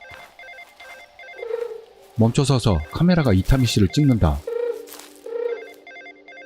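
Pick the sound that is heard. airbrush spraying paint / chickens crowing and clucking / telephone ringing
telephone ringing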